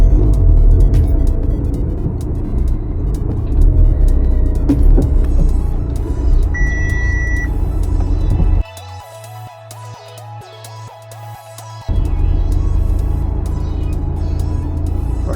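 An Audi Q5 with a newly installed turbo drives along, a steady road and engine rumble throughout, briefly dropping to a quieter, pulsing tone for a few seconds before the full driving noise returns.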